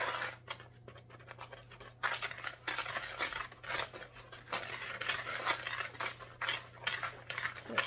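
Sugar is mixed into muffin batter in a bowl, with a close scraping and tapping of a utensil against the bowl in irregular strokes, fairly quiet and without voices.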